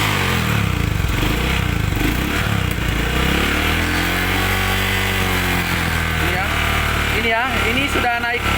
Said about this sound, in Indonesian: Coba kita starter motornya.